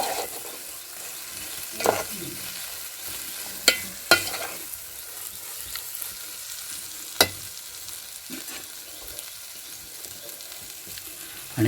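A wet kolim (acetes shrimp) masala of onion, tomato and salt is sautéed in a pan over a wood-fired stove, giving a soft steady sizzle with occasional sharp knocks of the stirring spoon, no talking.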